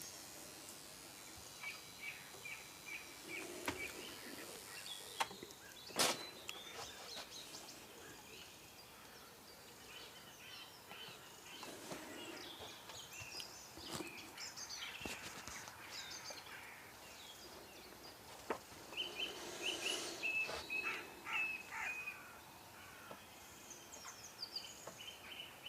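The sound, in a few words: garden birds at a feeder on a houseboat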